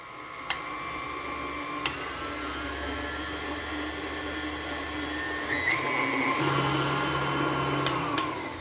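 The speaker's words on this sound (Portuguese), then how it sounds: "eu vou começar batendo em velocidade baixa e vou aumentar até a velocidade alta" An electric mixer beats chocolate cake batter, a steady motor whir running throughout that climbs from low to high speed, with a few sharp clicks from the beaters striking the bowl.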